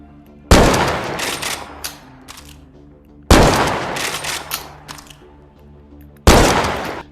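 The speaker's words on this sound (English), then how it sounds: "let's try the sniper" Three loud, heavy sniper rifle shots in a VR shooter game, each a sharp blast with a long decaying tail, spaced a few seconds apart, with no voices.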